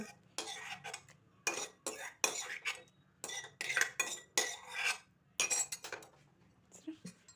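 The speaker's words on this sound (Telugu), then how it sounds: "ఇలా వేసి బాగా కలపాలి" A spoon stirs brinjal chutney in a pot in bursts of scraping and clinking, close and moderately loud, with short pauses between strokes.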